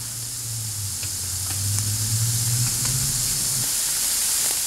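Onions, peppers and jalapenos saute in a pan for a ham and egg breakfast burrito, giving a steady, close sizzling hiss that swells slightly midway, with no talking.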